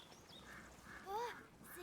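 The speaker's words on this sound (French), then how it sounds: "Des canards." Ducks quack in the video game A Plague Tale, a brief cluster over soft background ambience, a couple of nasal calls rising above a quiet scene.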